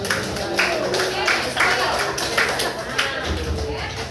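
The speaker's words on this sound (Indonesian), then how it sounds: "Tepuk tangan dulu untuk." Students in an Indonesian classroom clap together in a run of rhythmic bursts, nearby and moderately loud, with a voice talking over the clapping.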